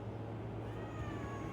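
A house cat meows while being brushed, a faint, drawn-out tonal cry that holds steadily over a low, continuous background hum.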